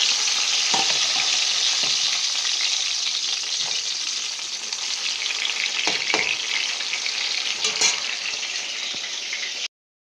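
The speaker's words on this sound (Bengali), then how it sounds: "এই বেগুনগুলো হচ্ছে তেলে দেওয়ার সঙ্গে সঙ্গে ভাজা হয়ে যায়" Soft homegrown eggplant slices frying in hot oil, a dense continuous sizzle heard up close with occasional stirring clicks and knocks, cutting off abruptly near the end.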